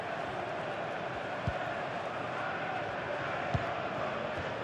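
A football stadium crowd during an England match, a dense steady roar of thousands of voices with a couple of faint thumps, sustained and even, no commentary heard.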